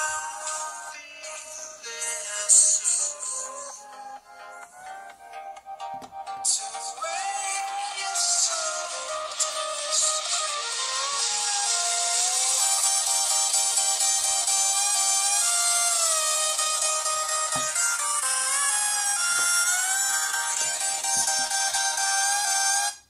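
Music plays through the small loudspeaker of a Leagoo M8 Pro phone, thin and bright with little bass, steady and fairly loud throughout with a melodic line over a dense upper range.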